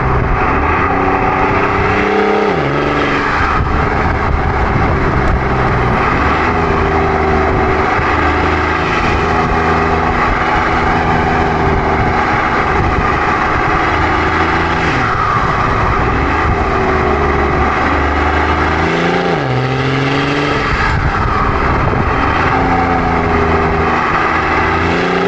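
A BMW E90 drives a winding canyon road, its engine a loud, continuous drone that rises and falls in pitch with shifts and throttle changes through the bends, carrying on without any talking.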